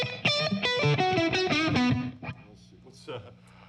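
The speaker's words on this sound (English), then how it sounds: "what you're hearing now is actually just the early reflections of the reverb" Electric guitar through a HOF Mini reverb pedal set to only its early reflections, distorted chords ringing loud for about two seconds, then a short, dry, close decay trailing into quieter notes.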